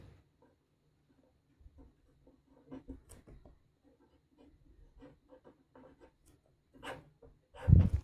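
A pen scratching out a name on paper, soft intermittent strokes close by in a quiet room, ending in a louder brief rub.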